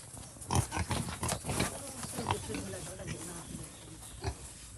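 Pigs grunting and oinking in a pen in Quezon, repeated loud snorts close by under a person calling out and speaking.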